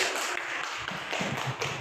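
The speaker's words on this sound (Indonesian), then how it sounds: "Tepuk tangan." An audience at a teacher's presentation claps hands, a dense, steady patter of applause filling the short moment at moderate loudness.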